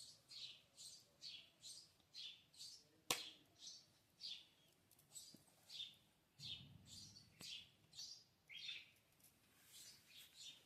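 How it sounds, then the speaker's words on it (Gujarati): A sparrow chirps in a quick, repeated series of bright, fairly close calls, with a sharp click or two and faint indoor sounds in between. "જો ચકલી કેવી મસ્ત બોલે છે."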